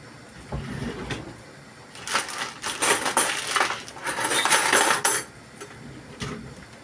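Cutlery whisking in a bowl while making yogurt soup, bursts of rapid metallic clinking and scraping in quick rhythmic strokes, close and fairly loud, with quieter pauses between.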